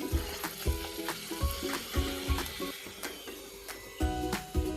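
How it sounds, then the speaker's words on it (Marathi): Puris deep-frying in hot oil for a colourful Indian puri recipe, a steady close sizzle with bubbling and scattered clinks and taps over it. "आणि अशाच आपण सगळ्या पुऱ्या पण तळून घेऊ."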